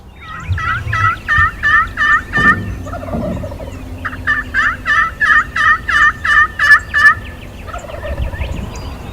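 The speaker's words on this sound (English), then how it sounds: "Once the sun began to come up, the gobblers really started talking." Wild turkey gobblers gobbling repeatedly at sunrise in Texas in loud, rapid rattling bursts, six or seven birds calling back and forth, some close and some farther off.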